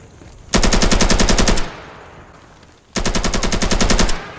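Two loud, close bursts of rapid automatic rifle fire in the tactical shooter game Insurgency, each about a second long with a steady fast rhythm and a short gap between them.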